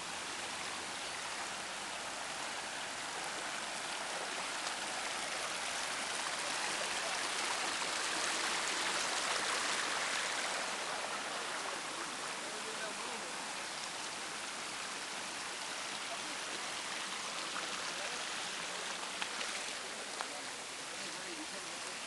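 Swollen stream flowing along a trail toward a waterfall, a broad, constant rushing hiss of water that stays steady and fairly close for the whole stretch.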